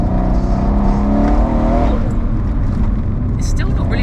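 A turbocharged 830 bhp Mercedes C63 AMG engine blares loudly on a downshift, its rising-and-falling harmonic note holding for about two seconds before breaking into rougher exhaust roar, with a voice faintly present.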